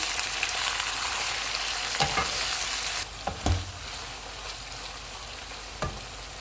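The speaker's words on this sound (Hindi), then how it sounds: "कीमा डालेंगे। कीमे का कलर चेंज होने तक इसको पकाएंगे।" Keema minced meat frying with onion and ginger-garlic paste in a karahi, a loud steady sizzle broken by a few stirring scrapes and knocks, with no talk.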